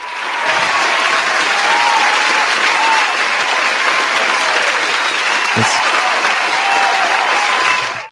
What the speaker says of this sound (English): Yo, that clap is very long. I mean, It's cool. I appreciate the applause.